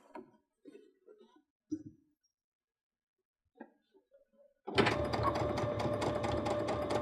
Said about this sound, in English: And again, continue to sew